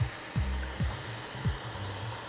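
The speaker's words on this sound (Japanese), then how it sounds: "前からドライヤーを当てて風を当てながら髪を起こしてあげます" Hair dryer blowing at the front of short men's hair to lift the fringe in a hair salon, a steady close airflow hum with a few soft bumps as the nozzle shifts.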